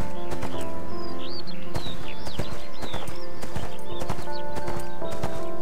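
A horse in ArcheAge clip-clops along in a steady, close, loud rhythm of hoofbeats, with occasional whinnying snorts and game ambience layered over a busy backdrop and no talking.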